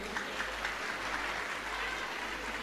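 Steady applause from an audience at a live stand-up comedy show in an ashram hall, a continuous wash of clapping with a low hum underneath.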